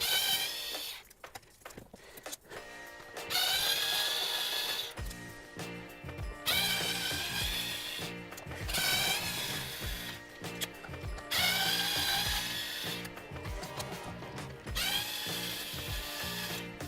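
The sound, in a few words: removing dash screws on Honda VFR800 motorcycle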